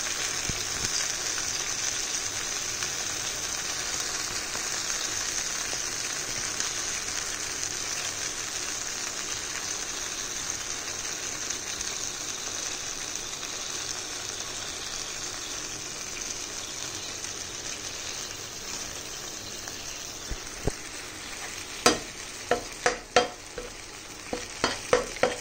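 Soya chunk 65 sizzles steadily in a pan after ketchup and vinegar go in, a continuous loud frying hiss with a few sharp stirring clinks and knocks near the end.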